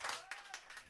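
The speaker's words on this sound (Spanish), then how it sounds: "¡Fuerte ese aplauso!" Brief audience applause and clapping at a live comedy and culture show, a short burst of several claps over a faint, lingering tone.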